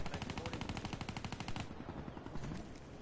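MP40 submachine gun in Black Ops 3 firing a fast, steady automatic burst for about a second and a half, then quieter scattered gunfire fading out.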